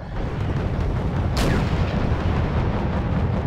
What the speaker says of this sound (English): You can see that missile that went all the way around